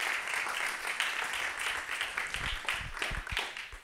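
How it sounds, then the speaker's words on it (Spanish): A Spanish-speaking audience applauds at a World Water Week session for the Americas after a prize announcement, sustained crowd clapping at moderate level with a few sharper nearby claps standing out. "así que un gran aplauso"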